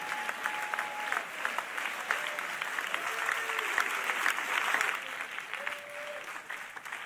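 A church congregation claps steadily throughout a prophetic service, dense and sustained at moderate loudness, with a few scattered voices calling out over the applause.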